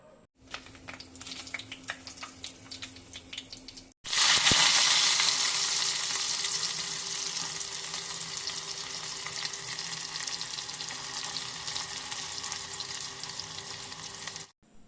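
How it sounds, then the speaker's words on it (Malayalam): Mustard seeds and fenugreek spluttering in hot oil for a fish curry, a loud sudden burst of crackling sizzle that starts after a few seconds of quieter stirring and holds steady close by. "കടുക് പൊട്ടിക്കഴിയുമ്പോൾ കുറച്ച് ഉലുവ കൂടി പൊട്ടിച്ചെടുക്കാം"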